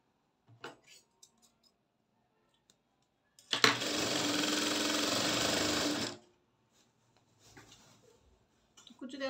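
A sewing machine stitches pleats on a salwar in a single burst of about two and a half seconds, whirring steadily up close. Quiet handling clicks and taps come before and after it.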